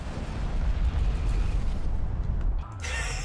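Missile ship blowing up in a video game, a loud rumbling explosion with crackling debris that rolls on for a few seconds before fading into a brighter hiss.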